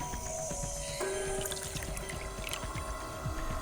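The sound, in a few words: pouring saline solution into a beaker, from the video game Zero Escape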